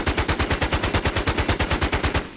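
SIG SAUER 556 rifle firing in the video game BNG: Infestation: a loud, sustained automatic burst of evenly spaced rapid shots with no talking.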